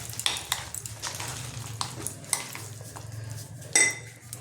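A spoon clinks and scrapes steadily around a pot while a small pinch of baking soda is stirred into a Bengali chhana dish, with repeated metallic taps and one sharper ring near the end, close with no voices.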